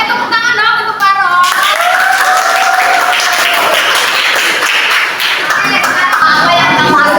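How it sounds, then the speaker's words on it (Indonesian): A class of students applauds for Paro in a classroom, a loud burst of clapping that continues for several seconds, with voices audible underneath. "Oke, tepuk tangan dong untuk Paro."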